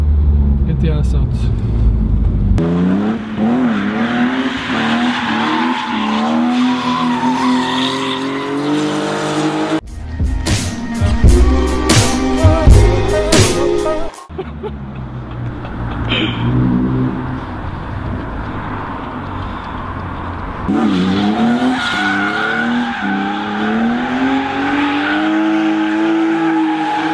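An Audi car drifts at full throttle with the clutch released: a loud, close, revving engine whose pitch rises and falls, with screeching tire squeal mixed in throughout.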